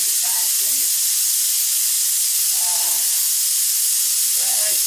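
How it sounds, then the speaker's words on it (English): A pressure cooker releases steam in a loud, continuous, close hiss that runs throughout, with faint voices briefly heard underneath. "if you want the pressure cooker to go down faster, you can hold it"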